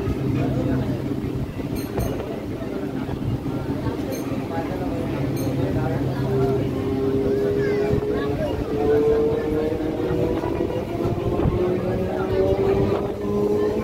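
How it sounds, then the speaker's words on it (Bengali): A train at Prinsep Ghat in Kolkata approaches and passes with a continuous low rumble and a rising tonal whine, steady and fairly close throughout. "সেই সামনে থেকে একটা ট্রেন আসে,"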